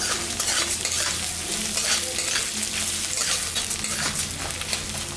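Raw atap rice frying in hot mustard oil with cumin seeds and dried chili in a hot kadai, a dense steady sizzle with stirring scrapes throughout, close and alone without talk.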